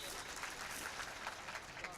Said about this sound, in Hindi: एक बार कस के ताली बजा के